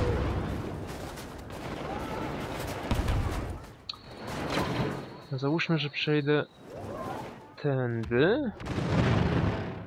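Explosions and blaster gunfire in the Star Wars Battlefront video game, dense rumbling booms and bursts of sci-fi weapon fire, loud and close, with someone talking between them.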